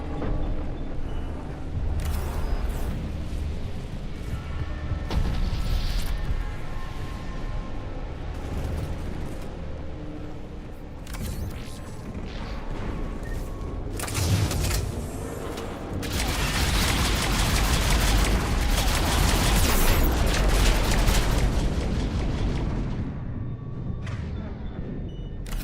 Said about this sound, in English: The random giant explosions in my...